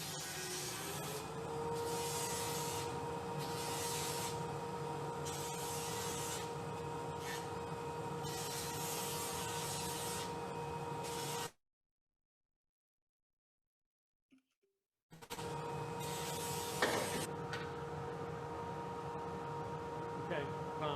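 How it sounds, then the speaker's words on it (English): Sanding discs work a spinning wood finial on a lathe, a steady whirring hum with rhythmic rubbing swells, broken by a few seconds of silence before the lathe drone resumes. "I take those sanding discs and round off the edges of the binds with the sandpaper"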